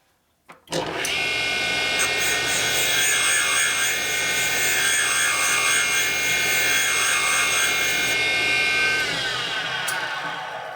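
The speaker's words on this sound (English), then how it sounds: "So you can hear the real chattering of the grind. That's because the wheel's dull now." A dull grinding wheel works a Harley-Davidson valve during a valve job, giving a steady, harsh, chattering grind. It starts abruptly and runs continuously for about ten seconds before stopping.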